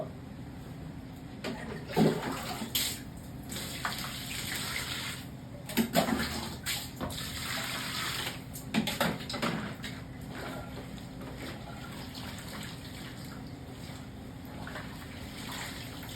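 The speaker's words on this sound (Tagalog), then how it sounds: "Magbabanlaw na tayo." Laundry being rinsed by hand in a basin of water gives bursts of sloshing and splashing at irregular intervals, close and moderately loud, with quieter trickling between them.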